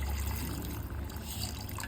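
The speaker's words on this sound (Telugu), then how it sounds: "కొంచెం నీళ్ళు పోసుకుంటున్నాం." Water pours into curry simmering in a pan, a steady close trickle and splash running alone without pause through the short moment.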